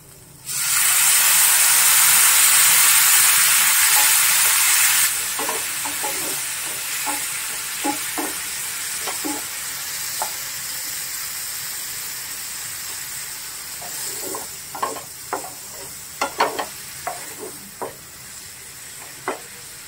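Ground turmeric, chilli, cumin and coriander hit a hot pan with a splash of water and erupt in a loud, hissing sizzle for about five seconds, then settle into a softer simmer punctuated by scattered scraping stirs.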